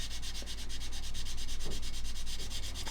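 Steady dry rasping of a 400 grit Infini sanding pad worked along a curved seam on a scale model, continuous close-up scrubbing strokes with no talk.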